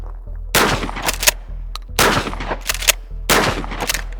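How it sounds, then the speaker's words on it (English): Shotgun slugs fired outdoors in three separate bursts of loud, sharp blasts, each burst holding several rapid reports with echoing tails, close and dominant. "All right, let's fire some slugs here."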